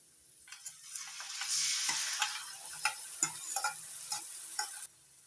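Ground spice paste with garlic goes into hot oil with onions for a pomfret curry, sizzling and frying under a low-to-medium gas flame, with sharp clicks of a spatula stirring against the pan at irregular intervals.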